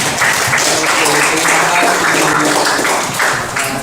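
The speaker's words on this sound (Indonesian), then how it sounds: "Boleh kita kasih tepuk tangan untuk semangat ya?" A school class applauding together in a classroom, dense and continuous clapping from many hands, loud and close, lasting the whole moment.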